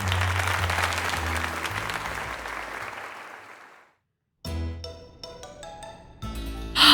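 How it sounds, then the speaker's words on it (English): A long burst of video game applause in Pokémon Legends Z-A that fades to silence, then more clapping resumes, ending with a brief louder swell. "let us give another heartfelt round of applause to Soleil"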